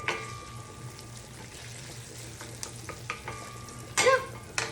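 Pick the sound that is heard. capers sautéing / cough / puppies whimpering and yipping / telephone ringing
capers sautéing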